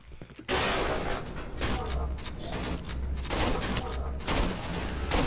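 Shotgun blasts in the horror video game Cry of Fear come as loud, sharp bursts with reverberant tails, several shots spread across a few seconds, while players' voices talk over the gunfire.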